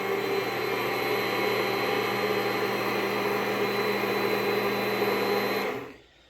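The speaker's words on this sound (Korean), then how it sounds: "이걸 이제 믹서기로 곱게 갈아주는 거예요." A kitchen blender grinds soybean or canola oil with egg yolk water into an emulsion for houseplants, a loud, steady, high-pitched motor whine that runs evenly, then winds down and stops near the end.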